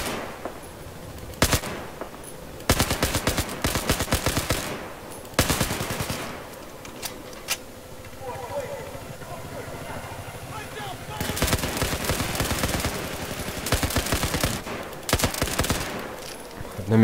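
Bursts of rapid automatic gunfire aimed at a helicopter in the video game Battlefield 4 come in several loud volleys separated by quieter gaps, with a voice talking between the shots.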